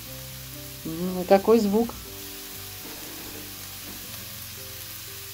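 Pieces of pork brisket fry in a dry hot pan, rendering their own fat, with a faint steady sizzle running through; a voice speaks briefly near the start.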